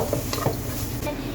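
Egg and onion are stirred in a frying pan over steady sizzling, with the spatula scraping and tapping lightly against the pan, close by.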